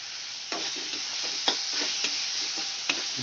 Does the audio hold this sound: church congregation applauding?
no